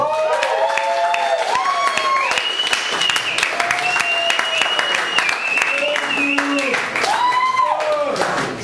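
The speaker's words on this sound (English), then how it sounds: "Thank you for clapping." Audience applause at a comedy club, The Ice House in Pasadena, California, rising and holding steady for several seconds with cheering mixed in. Musical walk-on tones play over the crowd.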